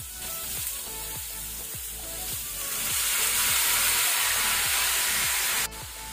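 Elephant yam and fenugreek seeds fry in oil in a pan with a loud, steady sizzle and hiss, growing stronger midway, with a sudden brief clack near the end.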